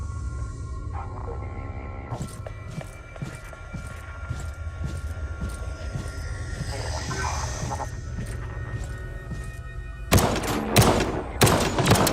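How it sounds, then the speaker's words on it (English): Rifle rounds ring out in the Pit of Doom video game as a regular series of sharp shots over a low droning hum, turning into a louder, denser volley near the end. "Rifle rounds. That's not very close."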